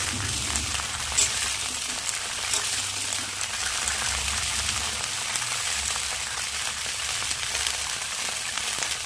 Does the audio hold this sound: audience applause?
no